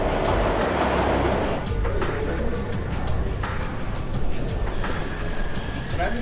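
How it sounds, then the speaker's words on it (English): A New York subway train rushes past on live rails, a loud roaring rumble with rattling metallic clatter and brief high squeals as the cars go by close at hand. "with trains bearing down just centimeters away"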